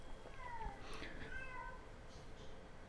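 A house cat meows several times at home, thin, rising and falling cries at moderate distance over a steady background hiss.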